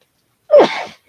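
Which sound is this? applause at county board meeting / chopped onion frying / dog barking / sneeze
sneeze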